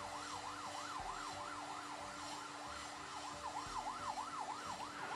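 An ambulance siren wails in a fast repeating up-and-down pattern, moderately distant, over a low traffic rumble in congested traffic where there is no space to give way.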